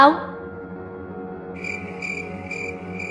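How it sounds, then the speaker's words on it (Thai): Crickets and cicadas chirp at night. A brief voice-like sound opens, then a steady, pulsing chirp sets in, repeating in even bursts at moderate loudness over a low background hum. "ปรีดริงเรไรต่างร้องแข่งกันดังระงม"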